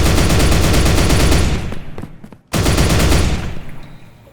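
A chain gun in the Disdain video game fires in loud, rapid sustained bursts, breaking off briefly for about a second before resuming at full intensity, then tapering away.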